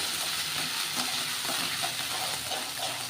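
Finely ground ginger paste stirred continuously in a hot pan over low heat for aalepak vadi, giving a steady hiss of sizzling with soft, even scraping throughout.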